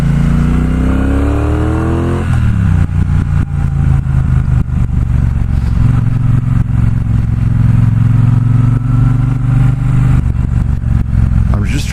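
A 2018 Triumph Bobber Black motorcycle rides by close and loud, its engine droning steadily with revs rising and falling, the tone shifting after a couple of seconds as it pulls away and holds a constant rumble.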